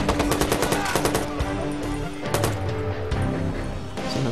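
Watch Dogs gunfire on PS4 comes in rapid, loud bursts of shots. Dense volleys run through the first half, then scattered single cracks and further bursts follow, with a player talking over parts of the action.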